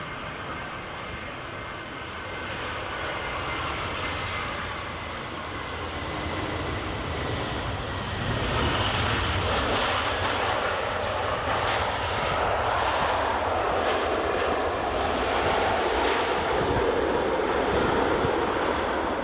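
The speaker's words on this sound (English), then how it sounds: "Next arrival, the Lufthansa." A Lufthansa airliner arrives at Edinburgh Airport, a steady jet engine roar that grows gradually louder and fuller as it approaches, heard alone without voices.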